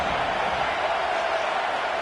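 Roaring stadium crowd in a simulated football game, a dense, steady wash of cheering noise that holds loud and unbroken throughout without any clear individual voices.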